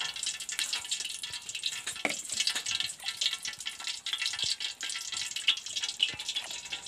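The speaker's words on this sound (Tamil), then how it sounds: "வெந்தயத்தை போட்டு நல்லா கொஞ்சம் வதக்கிக்கணும்" Steady sizzling and crackling of fenugreek seeds frying in hot oil, with scattered small pops and stirring sounds, close by.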